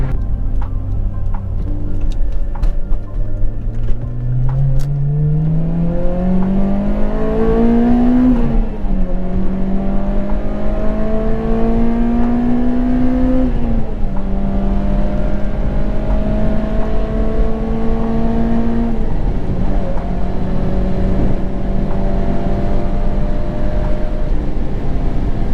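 A Honda car engine revs hard into VTEC, its pitch climbing in repeated pulls and dropping at each shift, loud and close with a strong whirring drone throughout and no talking.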